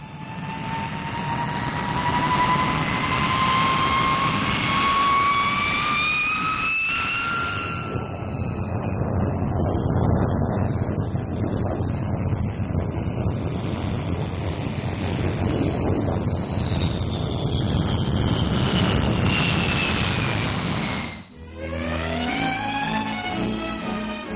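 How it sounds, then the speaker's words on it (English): Four-jet Vickers Valiant bomber of the RAF, from 1951, roars close and loud with a rising whine and a steady broadband rush, wind buffeting the microphone, then a second rising jet whine as another pass sweeps by, no talking. "The RAF's tremendously powerful weapon to come is the Valiant, the new 4-jet bomber"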